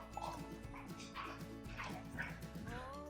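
Puppies romp in play, letting out a busy run of high yips, short barks and whimpers at close range, overlapping one another with voices faintly underneath.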